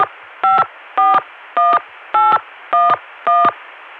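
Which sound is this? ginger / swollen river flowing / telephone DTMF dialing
telephone DTMF dialing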